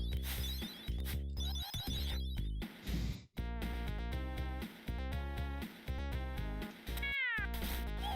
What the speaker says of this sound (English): Oh no, the cat, my only enemy, my one weakness.